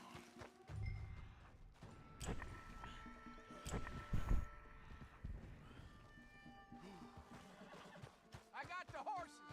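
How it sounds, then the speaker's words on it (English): Horses in the video game Red Dead Redemption clop along, with hoofbeats scattered through the scene and a whinny near the end, mixed with in-game voices talking. "I got the horses."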